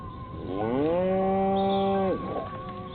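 In Destroy All Humans!, a cow lets out a single long, loud, close moo that swells, holds steady, then tails off abruptly.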